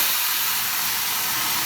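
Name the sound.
pasta water sizzling and steaming in hot pan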